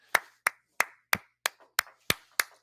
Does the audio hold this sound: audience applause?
yes